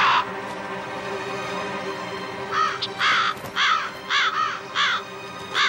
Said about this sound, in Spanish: Chicos, ¿habéis visto qué de pájaros?